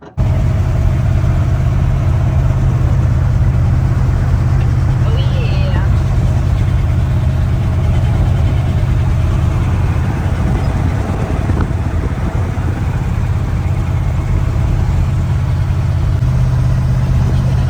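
A 1974 Chevy C20 Custom Deluxe truck, back on the road after sitting for five years, drones with a steady low engine rumble and road noise throughout, with occasional voices inside the cab.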